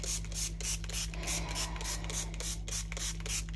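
Rapid, regular hissing bursts close by, a trigger spray bottle pumped over and over in a quick, even rhythm while cleaning paint off a gel print.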